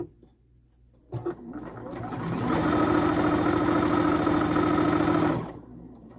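A sewing machine stitches the hem of a dog bandana, starting after a brief click and running up to a steady, loud whirring hum for several seconds before stopping abruptly, with no talk.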